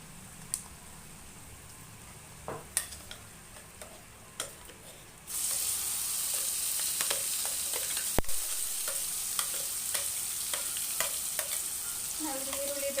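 A ground paste of dry chilli, coconut and cumin frying in a pan for gojju avalakki, with sparse spoon taps at first, then a sudden loud steady sizzle as it hits the hot pan, punctuated by occasional scraping stirs.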